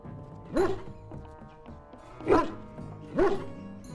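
A dog in the video game Dragon Age: Origins gives three short barks or yips, evenly spaced and close, each standing out clearly over quiet game ambience.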